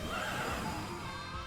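A horse Pokémon lets out a synthesized neigh as it is sent into a Pokémon video game battle, a fairly loud, slightly shrill whinny with a steady game-audio bed behind it.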